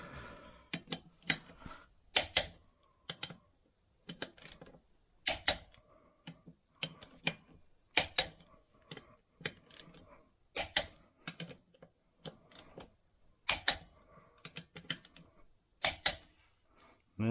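A torque wrench tightening bolts on a Kioti CK3510SE tractor, producing sharp metallic clicks in irregular clusters, fairly close and alone against a quiet background.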